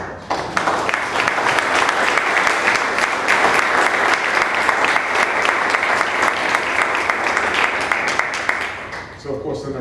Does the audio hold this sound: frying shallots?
no